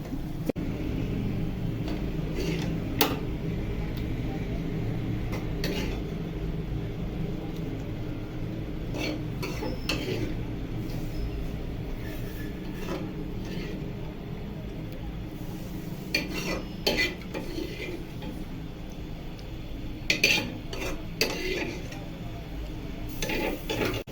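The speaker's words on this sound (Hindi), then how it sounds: "अब मैं डिश आउट करने वाली हूँ।" Cooked lotus stem and spinach, a Sindhi dish, are scooped out of a pan with a metal utensil. Scattered scrapes and clinks ring out over a low background hum, close by.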